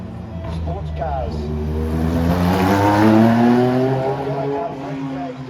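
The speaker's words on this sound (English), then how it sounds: "1960 sports cars." 1960 sports race cars roaring past on a street circuit at a classic race meeting, engines building to a loud peak then fading with a falling pitch, under a commentator's voice.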